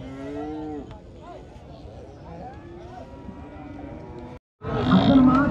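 Cattle at a bull market in Chaubaria moo in long, drawn-out calls at the start, followed by crowd noise, a brief silence, then loud nearby bustle, with people talking throughout.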